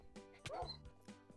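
A Minecraft dog yelps and whimpers after being struck during a Skywars match, with a few short, close, high-pitched cries.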